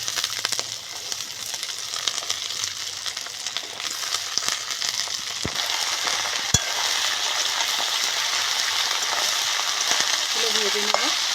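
Onions and mixed vegetables fry in a pan with a steady, close hiss and sizzle, punctuated by a couple of sharp utensil clinks and a faint clatter near the end.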